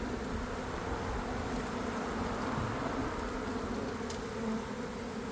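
Honey bees swarm over an opened hive, making a dense, unbroken buzzing hum that stays close and loud throughout, with no voices.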